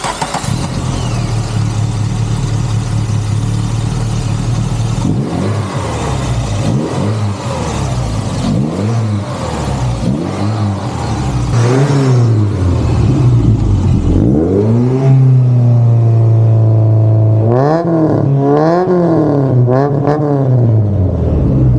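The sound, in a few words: Volkswagen crate engine running and revving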